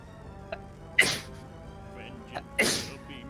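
Two sharp sneezes about a second and a half apart, each a loud explosive burst that trails off, with faint voices in the background between them.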